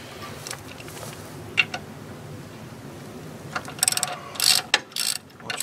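Torque wrench clicking as brace bolts are tightened on the steering box frame brace kit of a 1991 GMC Jimmy, a few sharp ratcheting clicks late on over a steady low background hum.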